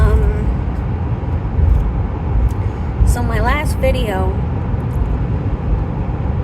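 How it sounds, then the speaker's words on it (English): Inside a moving car, a steady low road rumble and engine drone underlie someone speaking, with a brief warbling sound passing in the middle. "I'm in the car right now, so hopefully there's not a lot of noise."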